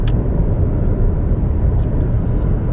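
A Honda e electric car, a 2022 E Advance, accelerating hard, heard as a steady low road and motor rumble from inside the cabin with a faint high whine, no voices.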